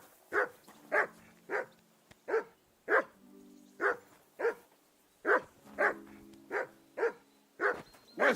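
A dog in Kingdom Come: Deliverance 2 barks over and over, a dozen or so sharp, fairly close woofs in a steady, insistent rhythm, with no voices over them.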